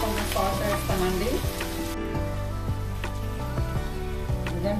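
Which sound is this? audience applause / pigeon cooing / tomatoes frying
tomatoes frying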